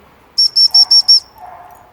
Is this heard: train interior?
no